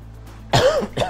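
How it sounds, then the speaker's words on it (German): A person with a sore throat coughs twice, close up: a harsh, throaty burst followed by a shorter second cough, with silence before and no talking. "ich entschuldige mich immer noch für Huster"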